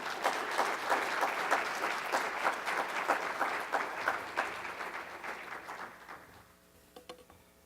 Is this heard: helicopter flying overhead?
no